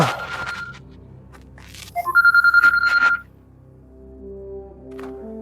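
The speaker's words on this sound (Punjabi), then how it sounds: "ਕਿਹਦਾ ਫੋਨ ਆ ਗਿਆ" A phone rings with a quick, rapid electronic trill lasting about a second, loud and close in a quiet room, followed by low background hum.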